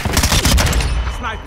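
Incoming gunfire crackles in a military shooter video game: a loud, close burst of rapid shots that packs the first second, then tails off quickly.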